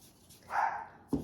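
An anxious rescue puppy gives a soft, muffled bark followed by a sharper yip, both quiet and close with nothing else around them.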